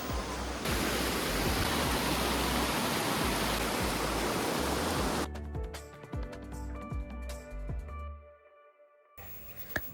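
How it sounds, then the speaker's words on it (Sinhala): A hidden waterfall, Hunukatu Ella, roars loud and close with a steady broadband rush for about five seconds, then drops away to quieter, thinner background sounds. "මේ තමයි හුණු කටු වැල්ල"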